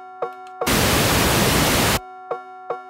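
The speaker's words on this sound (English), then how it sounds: "let's check that with our pink noise real quick" Pink noise test signal played during a mix check, a loud, steady broadband hiss lasting just over a second that starts and stops abruptly, set between short plucked musical notes.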